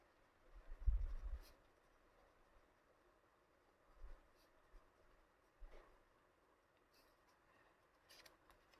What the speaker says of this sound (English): Always sign and date your tile.